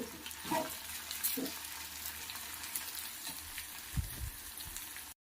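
Roasted brinjal fries in a pan with a soft, continuous sizzle, punctuated by a few low knocks as the pieces are stirred.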